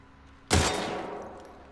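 A single gunshot cracks at a shooting range in The Last of Us Part 2, a sharp close report whose echo tails off over about a second, with no talking.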